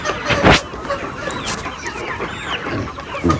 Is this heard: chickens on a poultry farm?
yes